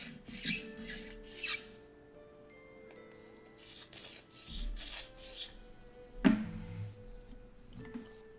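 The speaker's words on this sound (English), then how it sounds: "Yeah, we're just sanding it." Soft rasping strokes of hand sanding repeat irregularly, quiet and close, with occasional light knocks.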